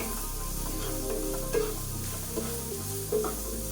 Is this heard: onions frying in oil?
yes